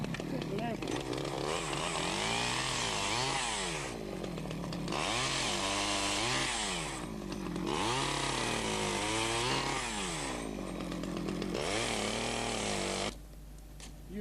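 A chainsaw trims the tops off a laid hedge, revving up and down in repeated bursts close by, and someone speaks over the engine noise.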